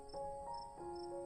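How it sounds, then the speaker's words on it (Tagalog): Crickets chirp in a quiet outdoor scene at dusk, a soft, steady trill with faint chirps repeating at even intervals, no voices present. "May kuliglig."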